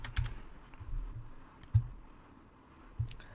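A password is typed on a computer keyboard as a few sparse, soft keystroke taps, close by and faint, spaced over a few seconds of near silence.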